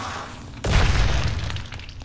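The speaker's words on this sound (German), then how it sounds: "Ah, hör auf, der explodiert?" An explosion in the survival video game Night of the Dead: a sudden deep boom partway through that rolls on as a rumbling decay, with no speech over it.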